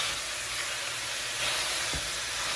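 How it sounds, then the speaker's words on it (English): Ground beef browning for sloppy joes, a steady dense sizzle and hiss from the hot pan that holds evenly throughout, with a faint low clunk near the end. "Listen to that sizzle."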